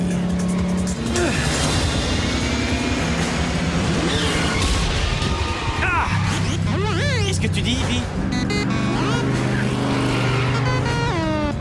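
A car races in the Transformers Prime cartoon, its engine roaring continuously with tire squeals and swooping pitch sweeps, loud and close under dramatic music, while a character speaks briefly.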